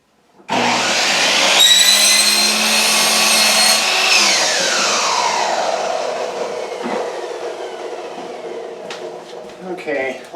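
A power tool cuts a laminate floor plank, a loud whining spin-up that holds steady for several seconds then winds down slowly, with a few clattering knocks near the end.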